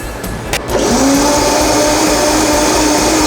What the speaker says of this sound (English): And then we're going to put the top on and blend.